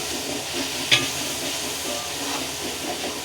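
Steady sizzle of ground spice masala frying in oil for Puneri-style matki misal, an even hiss with one brief clink of a spoon against the pan.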